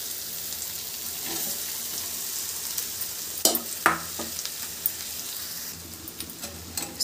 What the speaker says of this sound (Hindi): अब इसमें डालेंगे हमारे उबले हुए आलू।